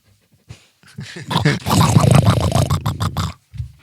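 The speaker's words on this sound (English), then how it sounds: "Dog is so funny. She snorts and stuff." A dog snorts, grunts and growls in quick, close bursts indoors, a loud rough stretch of snuffling in the middle with brief sounds before and after.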